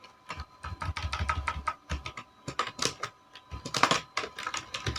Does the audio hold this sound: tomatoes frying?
no